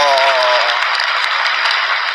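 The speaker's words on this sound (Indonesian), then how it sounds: "Tepuk tangan dulu ya" An audience at a public talk claps in a dense, steady burst of applause that follows a short voiced sound at the start.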